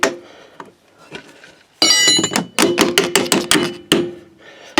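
A metal bolt being pushed and tapped through broken, sagging RV camper steps, with a washer on the edge: a run of sharp, close metallic knocks and clinks in quick bursts, then a pause and a few more taps.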